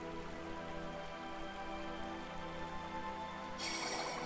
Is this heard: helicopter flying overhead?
no